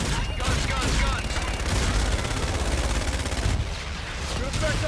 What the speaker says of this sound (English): Roger, inbound for gun run. Guns, guns, guns!